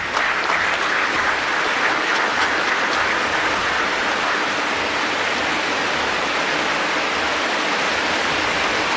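Steady heavy rain pours outdoors at a public event in Zambia, a constant dense hiss that stays loud and unbroken throughout, with no clear voices over it.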